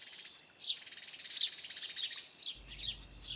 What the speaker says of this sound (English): The tree sparrow is happy to use the nesting boxes.